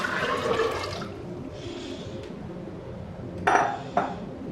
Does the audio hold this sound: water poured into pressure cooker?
yes